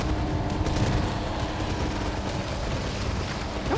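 Continuous gunfire from the James Bond 007 video game, a dense, loud burst of rapid shots and booms filling the whole stretch without pause, with no talking over it.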